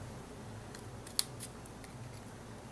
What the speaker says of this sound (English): I need to cut these ends with my little cutter bee scissors.